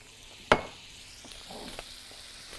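Chicken pieces dredged in flour are laid into a pan of melted butter and a little oil, giving a sharp sizzle burst on contact that settles into a quieter, steady crackle close by.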